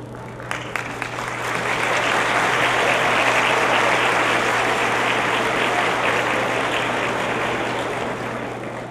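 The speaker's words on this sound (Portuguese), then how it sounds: "Uma salva de palmas também ao ilustríssimo coordenador pedagógico" Sustained audience applause at a faculty ceremony of Faculdade Impacta de Tecnologia, a dense wash of many hands clapping that swells in after a second and holds steady and loud, with a faint low hum beneath.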